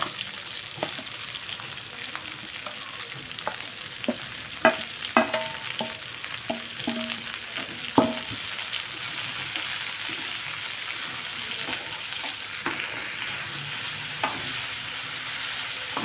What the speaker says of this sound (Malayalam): ഇനി നമുക്ക് അതിൻ്റെ അകത്തോട്ട് സവോള ഇട്ട് കൊടുക്കാം